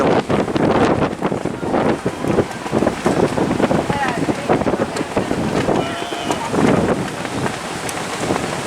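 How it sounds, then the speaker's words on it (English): Strong gusty wind buffets the microphone on a fishing pier at Cherry Grove in North Myrtle Beach, South Carolina, a loud continuous rumbling roar with irregular gusts and faint surf underneath. "out here, it has been very windy and almost chilly"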